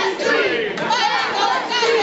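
A wrestling match crowd roars and shouts loudly after a near pinfall, a dense continuous wall of cheering and yelling voices for two seconds.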